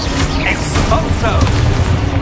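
An Expulso explosion spell goes off in the video game Hogwarts Legacy, a loud, deep blast with a rumbling, crackling tail that fills the whole short moment.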